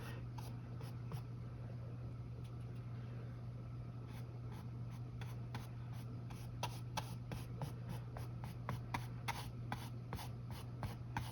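Brush sweeping acrylic paint across canvas for an autumn landscape, a soft dry scratching made of short, evenly spaced strokes that speed up and sharpen toward the end over a low steady hum, no talking.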